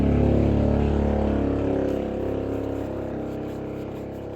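A large vehicle's engine rumbles low and steady, slowly fading slightly as it passes, with no talking.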